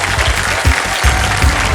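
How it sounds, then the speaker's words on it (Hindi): Loud, close applause from a TV quiz show studio audience welcoming ten new contestants on Kaun Banega Crorepati, with rhythmic, emphatic clapping in rapid bursts. "मैं चाहता हूं कि जोरदार तालियां बज जाएं उनके स्वागत"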